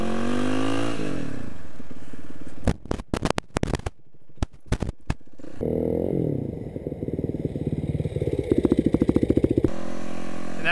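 A motorcycle being ridden revs and surges, with sharp bursts of throttle, choppy on-off engine blips in the middle, then a sustained rising run with clattering, fairly close and without speech.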